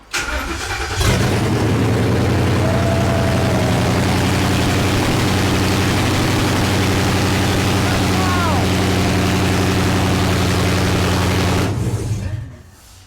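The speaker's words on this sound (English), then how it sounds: "But I don't have exhaust, so it's super loud" A loud truck engine with no exhaust system starts and idles with a raw, unmuffled roar, holding steady for about ten seconds before cutting off abruptly.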